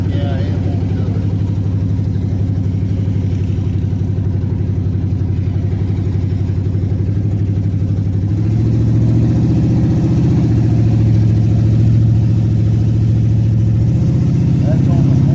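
A poorly running V8 car engine held under heavy throttle, a loud continuous low drone from inside the vehicle that deepens and strengthens about halfway through, with no clear sign of it picking up speed.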